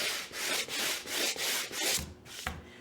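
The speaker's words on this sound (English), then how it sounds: "Okay, then I would sand." Sandpaper rubbed by hand across a painted wooden board being distressed to a chippy, weathered finish, in steady back-and-forth strokes with brief pauses between them, close and clear with no talking.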